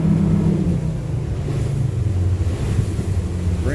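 Twin engines on a 28-foot Duckworth offshore boat running at about 46 mph, a steady low droning rumble with shifting engine tones under rushing wind and water noise, close and continuous.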